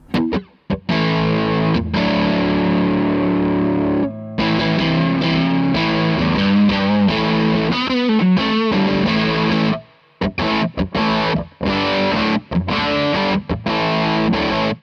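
Electric guitar chords ring out through a KO Sound tone bender fuzz pedal, thick and buzzing, played loud and close with brief pauses between strummed phrases.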